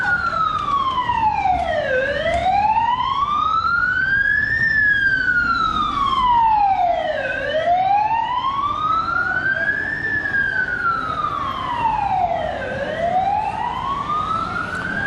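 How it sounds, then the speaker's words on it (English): An ambulance siren on a narrow Macau street wails loudly in slow rising and falling sweeps, close by and continuous for the whole stretch, over faint street noise. "Here comes our ambulance."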